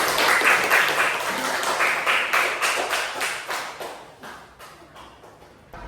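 Children in a classroom clap together in a loud burst of applause that keeps a loose rhythmic pulse, then thins and fades toward the end.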